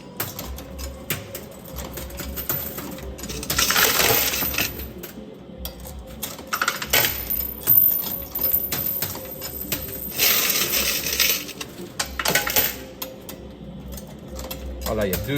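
Coins and tokens clink and tumble inside a coin pusher arcade machine, bursts of metallic rattling with quieter gaps between, a voice talking over parts of it.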